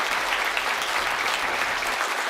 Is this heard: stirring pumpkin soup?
no